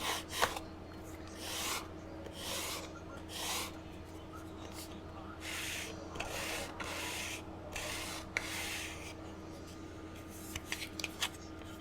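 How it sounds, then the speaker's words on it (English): A fingernail file rubs the edge of a small model car part flat in repeated back-and-forth strokes, a soft, close scraping rhythm over a steady low background hum. "I take and I sand that edge flat again"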